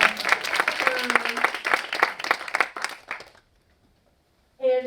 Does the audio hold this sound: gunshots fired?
no